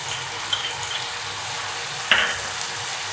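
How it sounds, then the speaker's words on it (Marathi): Tomato frying for rajma bhaji gives a steady, soft sizzle in the pan, with a small scrape or clink from stirring about two seconds in. "चांगली परतवून घ्यायची।"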